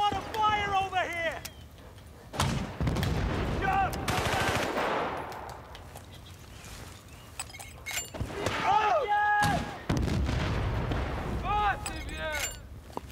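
Video game gunfire in Battlefield Bad Company: bursts of rapid automatic fire and heavy explosive booms come and go against loud battlefield noise, with game voices and whistling effects mixed in.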